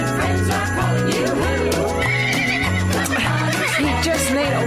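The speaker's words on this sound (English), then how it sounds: "He just neighed over the best part." A horse neighs loudly over continuous music playing throughout, the whinny rising clearly above the steady backing track.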